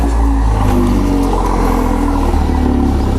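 Toyota GR Yaris with a Remus muffler exhaust revs loudly and continuously up close, a deep steady engine roar filling the short stretch with no talk.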